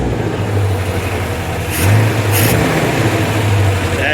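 The engine of a 1966 Austin Healey Sprite under rebuild runs close by with a loud, steady low rumble, and it swells slightly in a mild rev about halfway through.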